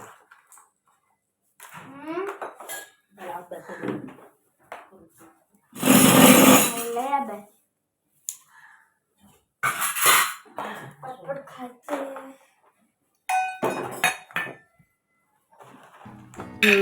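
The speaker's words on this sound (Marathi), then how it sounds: "तर आता ह्या भांड्यामध्ये हे कुटत आहेत" Dry fruits are pounded inside a heavy-bottomed metal pot, with several separate loud metallic thuds and clanks coming in short bursts between stretches of someone talking.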